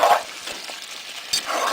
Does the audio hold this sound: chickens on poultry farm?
no